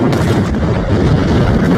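Rocket strikes hitting a military base set off a large explosion, a dense, continuous roar of blasts and rumbling fire that stays loud and close for the whole stretch.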